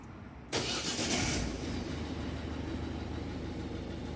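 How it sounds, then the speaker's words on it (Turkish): A 2012 Ford C-Max engine starts with a short loud crank and catch, then settles into a steady, smooth idle heard from close by. "Evet aracı çalıştırdık"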